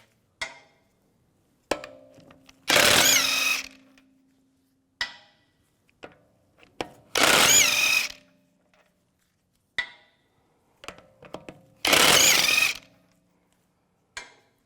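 A power tool with a 17mm socket spinning off wheel lug bolts on a 2004–2010 BMW X3, three loud whirring bursts of about a second each, separated by quiet clinks and handling of tools, close up.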